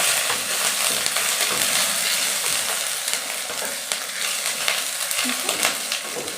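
Green chili, grated ginger and winter vegetables sizzle steadily in a pan for a moong dal, with scraping stirring strokes running through the constant, close frying hiss and no voices.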